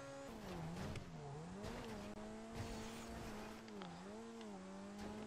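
A Grotti Carbonizzare sports car stuck in GTA 5 revs hard while its tires squeal continuously, a wavering engine drone with a sliding whine that rises and falls, loud and close.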